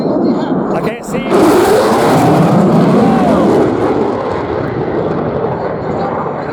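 A Lockheed F-35A Lightning II jet at the Sun 'n Fun 2024 airshow passes close overhead just below the speed of sound, a loud continuous roaring rush that swells after a brief dip and holds steady.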